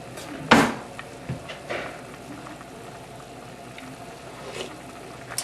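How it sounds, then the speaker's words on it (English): Beef and vegetable stew coming up to the boil in a pot, with a steady, soft bubbling hiss, a sharp clatter near the start and a few light knocks from the pot. "I give them a quick stir and let the soup bring up to the boil"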